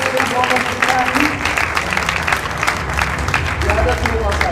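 Audience applause at a football awards ceremony in the Western Cape, a steady wash of clapping that runs the whole stretch, with crowd noise and voices mixed in.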